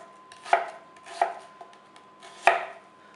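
A knife chops an onion into julienne strips on a cutting board for oven-baked mackerel, three distinct close thuds spaced unevenly, with faint scraping between them.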